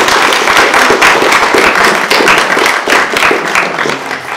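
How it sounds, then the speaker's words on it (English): Dense audience applause at a care giver awards ceremony, many hands clapping loudly and continuously before gradually easing off toward the end. "So can we have a round of applause from Danette and Michael."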